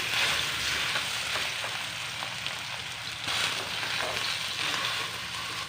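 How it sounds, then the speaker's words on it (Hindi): Mashed potatoes stirred and fried in a pan of oil for samosa filling, a steady close sizzle with soft scraping stirs and no voices. "अब इनमें हम मैश किए हुए आलू भी डाल देते हैं। अब हम इन्हें मिक्स करते हैं।"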